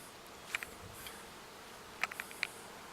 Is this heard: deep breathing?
no